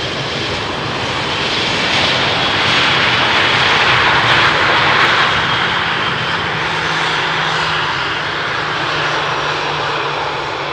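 Airliner arriving on runway 18R at Amsterdam Schiphol Airport, a loud, sustained jet engine roar that swells and holds close overhead with no talking.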